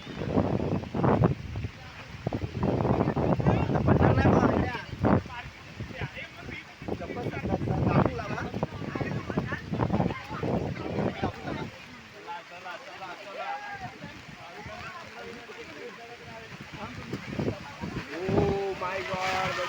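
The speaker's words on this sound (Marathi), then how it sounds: "कितना सुंदर वारा आहे" Strong wind buffets a hilltop during a rainy picnic, roaring and rumbling across the microphone throughout, with people chatting loudly over it for much of the time before it eases into gusty noise.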